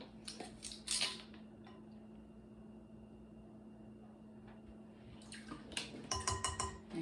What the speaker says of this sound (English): Okay, so here's our eggs. And give them a good whisk go.